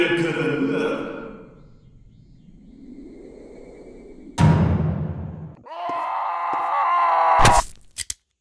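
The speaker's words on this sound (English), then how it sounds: "I don't know what that scream was" A scream rings out in the Japanese folklore horror video game Yuoni, starting as a loud drawn-out wail and moan, then turning into a harsh burst and a shrill, sustained shriek that cuts off abruptly.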